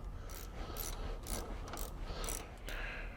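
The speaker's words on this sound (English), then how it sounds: "We're going to slide the shaft back in the hole at this end." An axle shaft slides back into a Ford 8.8 rear-end housing, giving quiet metallic scraping and ratcheting clicks in a series of short bursts, with no talk.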